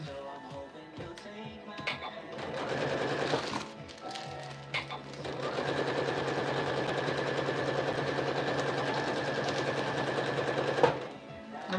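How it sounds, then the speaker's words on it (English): A sewing machine stitches a clear plastic storage bag, a fast, even mechanical whir that starts and stops, then runs steadily for several seconds before halting, close to the microphone with no talking. "I'm gonna backstitch just a little bit"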